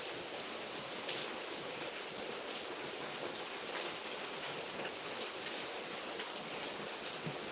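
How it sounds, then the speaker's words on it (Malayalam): Rain falls steadily in Elappara, a dense, even hiss that runs unbroken at a constant level throughout, with no voices. "ഏലപ്പാറയിൽ പെയ്യുന്ന മഴ"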